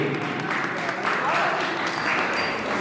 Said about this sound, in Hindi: एक बार जोरदार तालियां प्रदीप जी के लिए